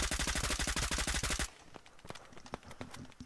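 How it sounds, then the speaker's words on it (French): Loud rapid automatic gunfire from the FPS video game Operation Harsh Doorstop, a dense continuous burst for about a second and a half, then scattered single shots and quieter distant firing. "Ça tire droit sur le toit."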